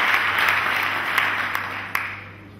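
An audience applauds at a year-end finale event, a dense, steady wash of clapping with a few sharper individual claps standing out, gradually tapering toward the end.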